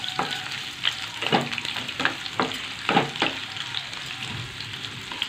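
Onions sizzling in about two spoons of oil with bay leaf in a kadai for Odia cabbage curry, a steady fry hiss broken by several sharp scrapes and stirs of the spoon, no voices.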